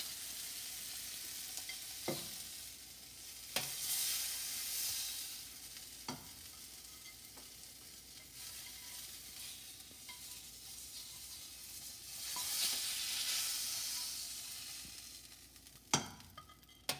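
Scallops sizzling in a hot pan, a soft steady frying hiss that swells twice, with a few sharp clinks and scrapes of utensils against the pan.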